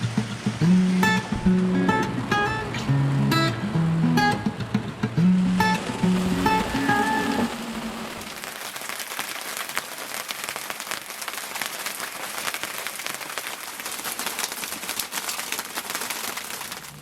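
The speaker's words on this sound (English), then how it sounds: "Coldest rain we've had yet. It's pretty exciting. Sounds like we're in an icy car wash." Cold, hard rain pelts a sailboat in gale-force winds, a dense, steady roar of drumming drops that runs the whole way; near the start it sits over a tonal, melodic layer that drops away after about eight seconds.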